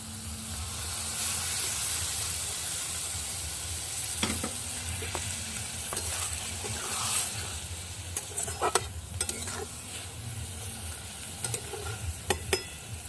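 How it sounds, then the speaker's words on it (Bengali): Water lily stems cooking down with spices in a pan, a close, steady frying sizzle with hiss and scattered sharp clicks of stirring toward the end. "মশলাটা দিয়ে ভালো করে কষিয়ে নেব শাপলাটা সামান্য একটু জল দিয়ে দেবো"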